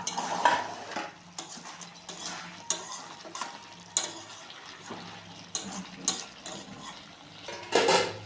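Potatoes being stirred into mutton curry, a series of irregular spoon scrapes and clinks against the pot over a low simmering bubble, close and fairly quiet, with no voices.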